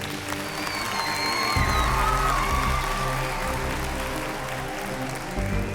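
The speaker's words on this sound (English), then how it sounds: "Round of applause, please." A crowd applauds at a televised dance competition stage as dancers and their moms return, the clapping running steadily under loud music with thumping bass and melodic tones.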